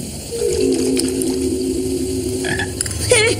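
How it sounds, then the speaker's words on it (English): A toad croaks in a sewer tunnel, giving a steady low rattling trill that runs for a few seconds, with a faint watery background and a brief higher chirping sound near the end. "It's just a cute little toad."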